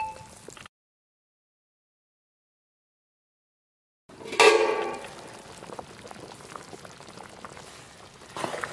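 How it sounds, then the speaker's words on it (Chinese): Lamb simmers in a covered pot with scallion, ginger, dried chili, peppercorns and fennel seed. After a stretch of silence, bubbling and sizzling start with a loud burst, then settle into a steady, close simmer. "盖上锅盖，先把羊肉炖熟"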